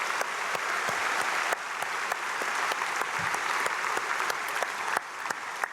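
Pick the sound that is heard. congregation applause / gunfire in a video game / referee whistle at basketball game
congregation applause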